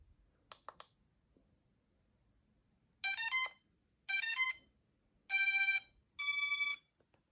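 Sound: drone beeping while searching for controller

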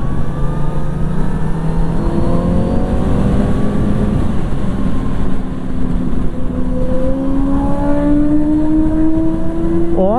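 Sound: Kawasaki Z900RS motorcycle riding at Interlagos circuit

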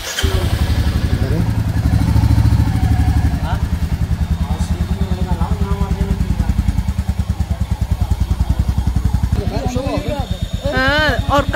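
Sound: motorcycle engine running

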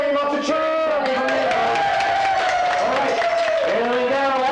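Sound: audience cheering at a stunt show

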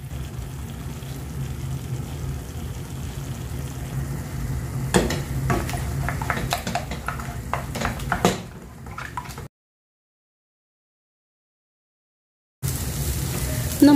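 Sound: eggs being scrambled in a pan with salt

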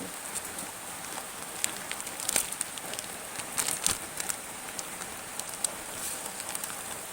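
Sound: rain falling

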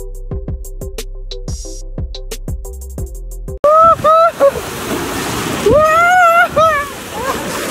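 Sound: waves of the Gulf of Mexico on beach

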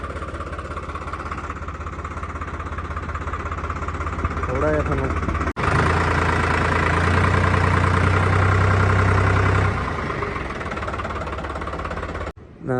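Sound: 3630 TX Super Plus tractor engine running

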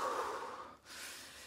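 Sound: deep breathing sound effect in a story

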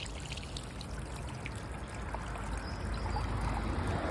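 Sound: clean water from hose pipe flushing plate heat exchanger

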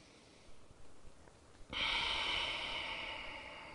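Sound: breathing during a stretch

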